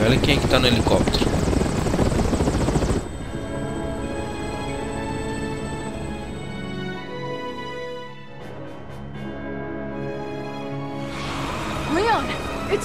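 A helicopter's rotor thrum and engine drone in Resident Evil 6 fill the scene, loud and continuous, with game sound effects and voices mixed over it.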